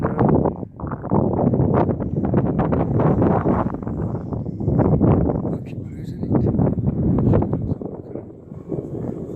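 Strong gusty wind buffets the microphone at a model plane flying field where a T-bird model is flown, a loud continuous roar with rising and falling gusts and brief dips.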